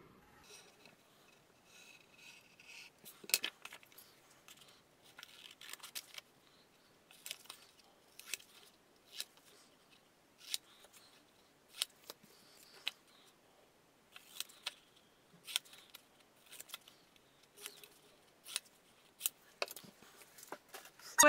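Scissors cutting out paper cauldron pieces, sped up, give quick sharp snips in a fast repeating rhythm, close and fairly quiet against a near-silent background.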